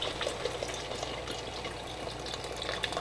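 Beef stock poured from a carton into a cooking pot in a home kitchen, a steady splashing liquid stream running continuously at close range with no voices.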